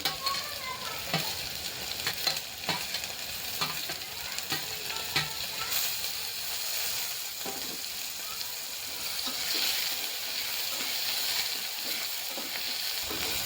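Chopped chillies sizzle and crackle steadily in a hot pan, with occasional stirring scrapes, while mung bean vegetable curry is cooked.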